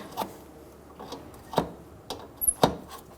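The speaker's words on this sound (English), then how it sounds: "Using an 11mm wrench, we're going to remove the nut for the brake line." An 11mm wrench loosens the brake line nut at a front flex hose on a 2000-2007 Ford Focus, producing four or five short metallic clicks and scrapes at uneven intervals, close and fairly quiet, without voices.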